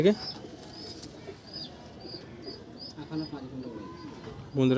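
Delhi pigeons at a loft coo in repeated low, throaty phrases with a few wing flaps, moderately close, while people talk over them throughout.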